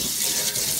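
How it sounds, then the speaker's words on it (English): Water poured out of vegetables through a strainer into a sink, a steady close hiss and splash of running water with no talking. "Then I put it in a strainer. And then I pour out the water."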